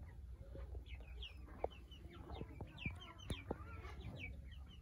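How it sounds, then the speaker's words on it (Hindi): Hens and roosters cluck in a small backyard coop holding around two dozen desi chickens, with soft, scattered clucks and short squawks over a low background hum. "24-25 मुर्गियाँ और 2-3 मुर्गे हैं, वो इधर बाहर होंगे कहीं पे"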